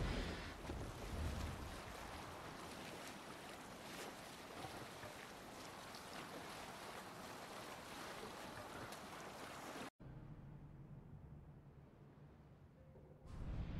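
Sailboat crossing the ocean in Assassin's Creed Valhalla, with steady rushing waves and wind noise that drop abruptly into a quieter low hum near the end.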